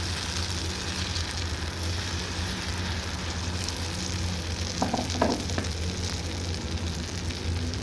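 Paratha batter sizzles steadily in a hot frying pan, a loud, close, continuous frying hiss with a few brief clinks partway through and no talk.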